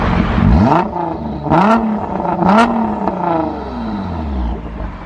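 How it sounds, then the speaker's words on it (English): Nissan GT-R R35 with an Armytrix valved exhaust opened to straight-through flow, revved hard several times: three loud rising-and-falling engine blips up close, followed by a settling idle burble. "now we're going to turn the valves on, which means that it's going to be straight through, no restrictions. It's going to sound a little bit different."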